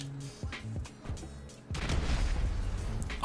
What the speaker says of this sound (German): Wie viele Granatenexplosionen?